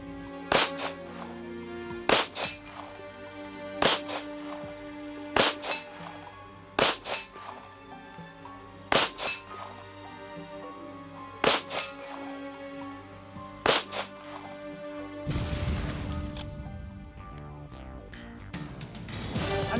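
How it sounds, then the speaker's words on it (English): Ten-shot handgun string fired at a 50-yard target on a range: sharp, evenly spaced cracks roughly every one to two seconds, loud and close, followed by a burst of broadband noise at the end. "50-yard target, 10 shots, you have 90 seconds."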